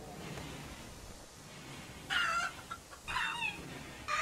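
Chickens cluck in the Rimworld colony sim, two short clucking bursts over a steady ambient game hiss, moderately loud.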